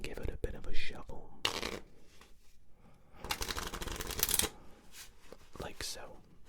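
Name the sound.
shuffling a deck of playing cards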